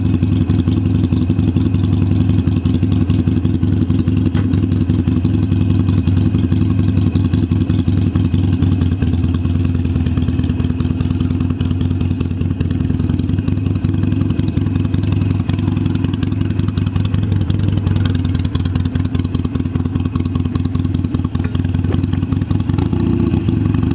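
Steady engine drone of an Indian motorcycle with about 1,300 miles on it while riding, loud and continuous throughout with a constant low rumble and no talking.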